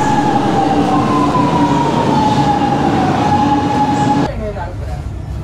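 A metro train at Government Estate metro station in Chennai runs loud and close with a steady rumble and a sliding tonal whine, then the sound drops sharply as it pulls away.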